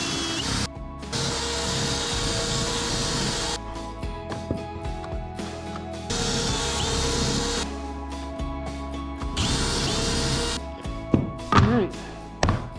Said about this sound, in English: these screws is they're supposed to be kind of self-tapping, yeah, so it's kind of supposed to bore the hole out while it screws into it